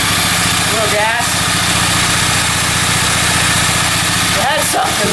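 Honda XR80 motorcycle from a junkyard, its small engine running after starting with a steady, loud idling putter, while voices talk over it briefly.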